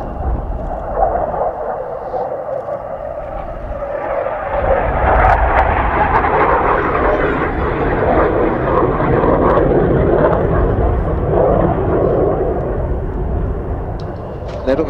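A Saab J32 Lansen jet aircraft engine roars loud and broadband, swelling to a sustained rumbling thunder midway, with a voice talking over it.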